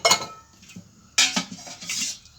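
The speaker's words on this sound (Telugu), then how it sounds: "ఇప్పుడు స్టవ్ మీద ప్యాన్ పెట్టేసుకొని" A metal pan set down on a stove with clanking knocks and scrapes, a couple of distinct bursts of metallic rattling up close.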